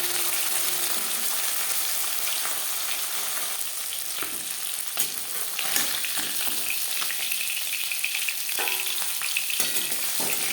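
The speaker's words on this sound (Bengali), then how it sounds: "মাছ ভাজা হয়ে গেছে" Chela fish frying crisp in hot oil in a pan, a steady dense sizzle and crackle running without pause, with a few louder spits and scraping stirs along the way and no talking.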